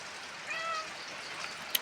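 A cat waiting for fish gives a short, faint meow over steady background hiss, followed by a tiny click near the end.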